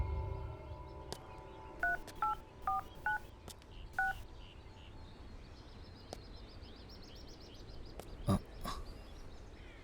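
Telephone keypad tones beep in a quick, irregular run of about six presses, followed by faint clicks against a low ambient hum, with no ring or answer afterward, as a call fails to connect.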